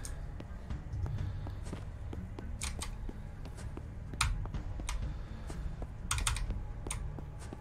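Keys clack on a loud computer keyboard in rapid, irregular bursts of sharp clicks close to the microphone, over a low steady background hum.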